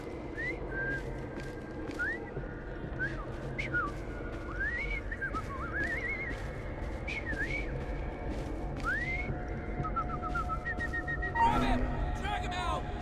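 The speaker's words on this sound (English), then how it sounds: "I've just learned to whistle." A character whistles a wavering, tuneful series of short rising and falling notes in the Assassin's Creed Syndicate video game, close and clear over a murmuring crowd and background game ambience.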